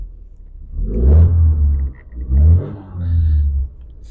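Seat 124 Sport engine revved by pulling a dash-mounted hand throttle cable to the carburetor, giving three loud, close swells of low rumbling revs with brief dips between, no talk over them.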